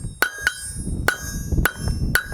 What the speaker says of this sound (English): forge it down, first to a square and then around the edges off